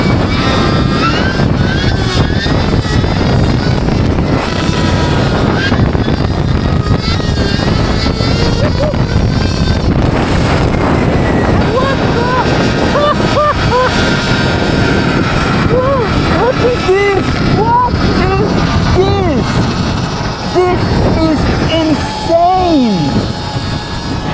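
Stark Varg SM Alpha electric motorcycle running at 80 horsepower, its loud motor whine rising and falling steadily against heavy wind rush with repeated pitch sweeps as it accelerates.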